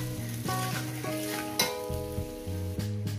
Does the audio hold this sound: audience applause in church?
no